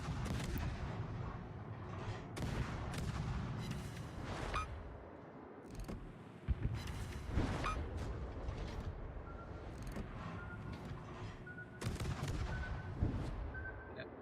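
Warship guns firing in World of Warships, repeated heavy booming salvos at irregular intervals over a rumbling engine and sea background, loud and close.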